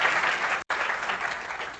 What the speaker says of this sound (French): franchement, ça mérite qu'on t'applaudisse